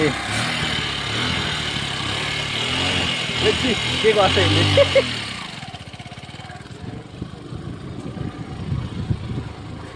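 A motorcycle engine runs and idles nearby while people talk over it, the engine note steady at first then rougher and sputtering near the end.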